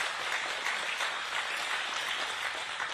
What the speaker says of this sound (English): Give Curtis a round of applause